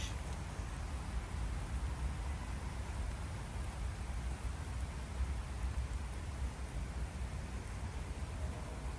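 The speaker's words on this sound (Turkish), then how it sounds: "Yağmur falan yağıyor" Steady rain falls throughout, a dense even hiss with a low rumble beneath, continuous and fairly faint with no voices.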